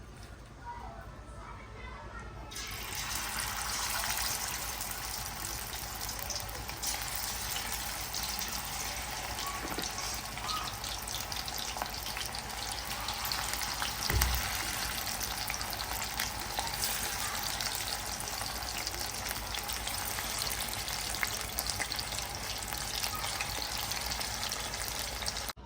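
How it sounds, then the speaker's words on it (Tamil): Prawns fry in a pan for homemade prawn fry noodles. A constant, watery hiss and crackle rises sharply after a quiet start and holds steady at moderate volume. "எறாவை நல்லா வறுத்து எடுத்துக்கோங்க"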